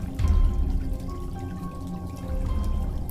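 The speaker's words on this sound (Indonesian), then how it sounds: "aku mendengar suara keran air yang berasal dari kamar mandi" Water runs steadily from a bathroom tap, a soft continuous pouring and trickling stream heard alone at moderate distance, with no voices.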